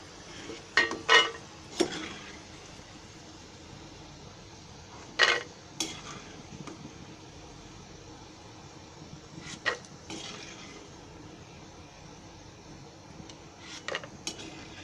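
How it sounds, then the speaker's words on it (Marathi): Peanuts roasting in a pan for Konkani-style poha chivda, with sparse metallic clinks and scrapes of stirring over a faint low hiss and long quiet stretches between them. "असे शेंगदाणे भाजून घेतले"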